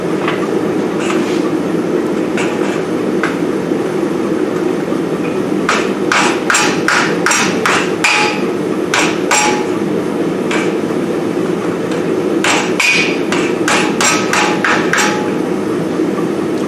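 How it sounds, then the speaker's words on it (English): A smaller rounding hammer strikes iron on a dishing block in a forge, with repeated ringing blows falling in quick clustered runs and pauses between them, close and loud over a steady background roar. "So I'm switching now to a little bit smaller rounding hammer."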